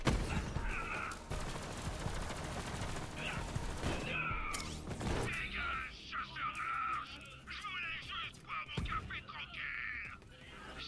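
A rocket launcher fires in the Borderlands 3 shooter game, with heavy blasts and bursts of gunfire in a chaotic battle, while voices and effects chatter over the near-continuous din.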